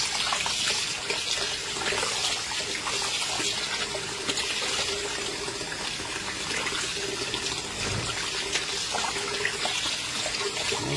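Hot water runs steadily from a tap over meat being washed for Haitian griot, a continuous close splashing stream with no pauses and no talking.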